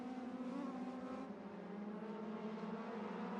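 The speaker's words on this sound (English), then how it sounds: "you see the swarm of legend cars." Legend cars racing at Irwindale Speedway, a pack of small engines droning together with steady tonal engine whine and no break in the sound.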